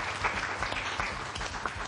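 An indoor audience at a children's show applauds with a dense burst of hand claps, close and fairly loud, a few sharper claps standing out over the steady patter.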